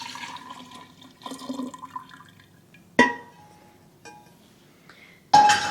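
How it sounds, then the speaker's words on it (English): Cold sweet tea poured into a kombucha jar, with light liquid trickling and splashing near the mic, a few sharp glass clinks and knocks punctuating the pour, and no talking. "So I'm going to add the cold sweet tea."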